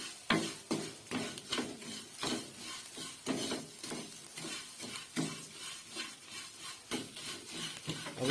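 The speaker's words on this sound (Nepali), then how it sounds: "चिउरा हालिसकेपछि अब सबै अन्डा र चिउरा मजाले मिक्स गर्ने।" Spatula stirring egg and beaten rice (chiura) frying in a pan, quiet rhythmic scraping strokes repeating roughly every half second over a soft background sizzle.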